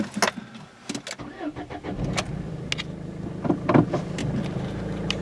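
A diesel car engine cranks and starts, then settles into a steady idle rumble, with clicks and knocks scattered over the first seconds.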